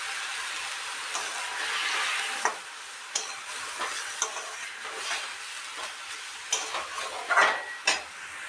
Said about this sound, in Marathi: त्याच्यात आपण दूध टाकून घेऊ.